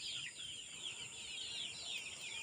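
Two-month-old desi chickens on a small veranda give a faint, continuous stream of high peeping and clucking calls, heard from a distance over low background noise.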